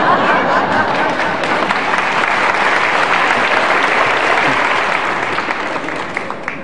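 A large audience at a motivational talk applauds loudly and continuously, a thick wash of clapping that stays level for several seconds before thinning slightly at the end; no clear laughter stands out.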